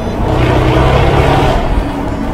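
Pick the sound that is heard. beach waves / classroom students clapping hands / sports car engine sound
sports car engine sound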